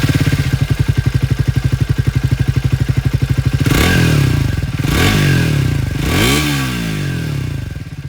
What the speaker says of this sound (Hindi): स्पीड 400 की आवाज़ मैं आप लोगों को सुना दूँ।